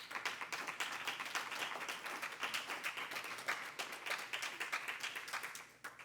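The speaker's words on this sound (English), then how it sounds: "Another round of applause for Martha" Audience applause at a poetry reading: many hands clapping in a steady, dense wash that keeps going for several seconds, heard from within the room at moderate volume with no voices over it.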